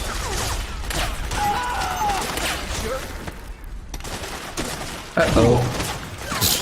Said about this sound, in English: Heard a grenade.